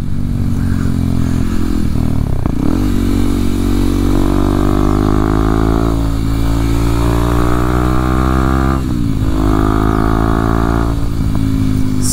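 A 2023 Kawasaki KLX 230SM dual-sport motorcycle on a ride, its single engine droning steadily and loud with clear gear changes and rising revs, plus wind and road noise throughout.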